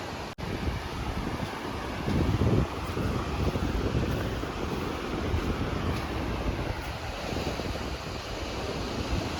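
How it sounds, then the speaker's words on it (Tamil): Continuous roar of ocean surf pounding the shore, with heavy wind buffeting the microphone throughout; no talking. "அலை ரொம்ப உக்கரமாக இருக்குது"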